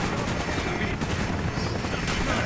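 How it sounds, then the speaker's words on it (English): Helicopter in the video game Call of Duty: Black Ops, a loud, continuous rotor thrum mixed with bursts of gunfire, a voice talking over it. "you definitely want to try to run when the helicopter's more towards the left-hand side"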